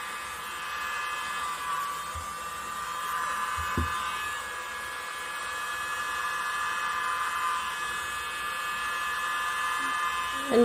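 A hair dryer blows neon acrylic paint across a canvas for a Dutch pour, a steady whining electric hum at moderate loudness with only faint background knocks.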